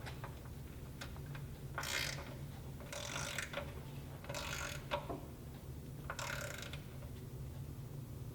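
A ratchet wrench clicks in four quick bursts as it tightens the left-side axle pinch bolt on a Motus motorcycle, crisp close ratcheting separated by short pauses over a low background hum.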